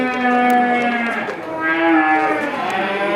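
Cattle at a Korean livestock market where calves are sold, loud drawn-out moos from several animals overlapping in a steady chorus with no talking.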